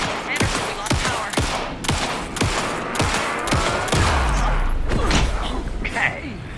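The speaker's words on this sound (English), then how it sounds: "Anderson, pin him down with gunfire for me to get the light on him." Gunfire in the Alan Wake 2 video game crackles in rapid repeated bursts, sharp shots and heavy thuds layered over a sustained low rumble, loud and close with voices talking throughout.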